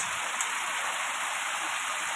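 Heavy monsoon rain pours down steadily, a dense even hiss of drops on surfaces, moderately loud and unbroken.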